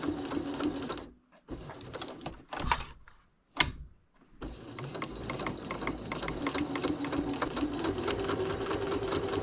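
Sewing machine running in steady bursts while stitching a small quilted coffin-shaped fabric keychain, with short pauses between seams, close and clear with no talking.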